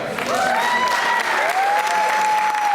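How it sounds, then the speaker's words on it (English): A large audience at a show applauds steadily and loudly throughout, a dense wash of clapping with a whistle-like tone sliding through it. "let's stay standing and hold your applause"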